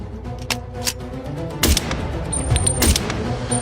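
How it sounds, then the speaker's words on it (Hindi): A rapid burst of gunshots rings out, several sharp cracks in quick, uneven succession at close range with a faint high tone lingering behind. "अरे तो फिर गोली चलाओ।"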